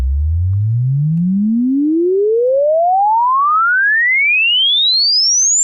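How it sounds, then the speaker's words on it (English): A pure sine tone sweeping smoothly and steadily upward from a deep low rumble to a thin high whistle over about six seconds, loud and alone. "a sine wave that just sweeps from the lowest frequency humans can hear to the highest"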